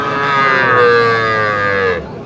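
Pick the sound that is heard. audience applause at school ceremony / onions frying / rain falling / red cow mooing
red cow mooing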